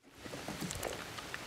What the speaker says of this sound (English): Well, guys, it's raining a little bit.